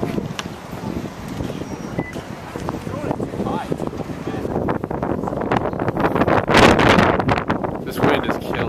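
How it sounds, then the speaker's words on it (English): Strong wind at a beach during a football game buffets the microphone with a loud, continuous roar that swells and gusts, while people talk over it. "This wind is killing."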